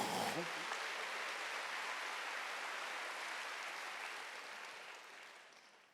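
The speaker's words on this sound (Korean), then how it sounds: "박수하세요." A church congregation at a Wednesday worship service bursts into applause, a dense wash of many hands clapping that starts abruptly, holds strong, then slowly tapers off.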